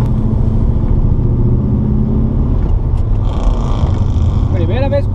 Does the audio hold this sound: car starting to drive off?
yes